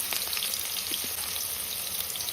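Onions frying in hot oil with mustard seeds for tomato gojju give a steady, soft, crackling sizzle with faint pops throughout, and no one speaks.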